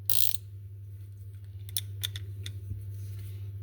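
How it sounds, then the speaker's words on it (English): Lockable swivel-head ratcheting screwdriver bought from Aliexpress, giving a few quick, faint mechanical clicks after a short initial rustle, heard close up with no talking. "now you've got a ratcheting screwdriver. You can have it ratcheting that way as well."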